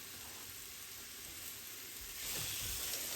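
Brussels sprouts and carrot frying in butter with garlic and coriander in a hot pan, a steady close sizzle that swells louder and brighter partway through as the vegetables are stirred.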